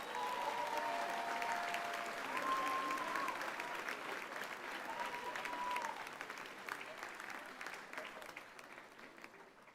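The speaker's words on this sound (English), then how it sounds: "Ladies and gentlemen, give them one more round of applause." A commencement crowd at a college's 50th graduation applauds the graduating class, sustained clapping filling the hall for about ten seconds while faint music or tones sound beneath it.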